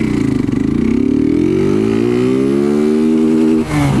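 A small motorcycle engine revs loud and close, its pitch climbing steadily for several seconds before a brief dip as the throttle is released.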